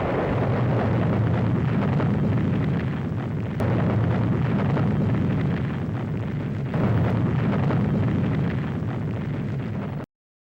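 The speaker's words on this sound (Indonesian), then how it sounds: "Percobaan yang dinamai Oppenheimer sebagai Trinity Test." A Trinity Test atomic bomb explosion rumbles as a loud, sustained roar of dense low-end noise that carries on unbroken for about ten seconds with no voices.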